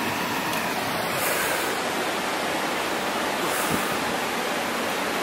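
A mountain waterfall on the trek to Dho Tarap in Upper Dolpo roars as a constant, dense, even rush of white noise, steady and unbroken, with no voices.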